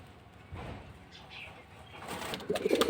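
Pigeons such as lalpatti and flyer breeds cooing in a loft, soft low coos rising toward the end with scattered bird rustling and faint background voices.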